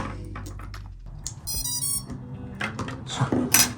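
Short electronic beeps from a drone flight controller ring out in bursts over a low background hum, with a few clicks and handling noises mixed in.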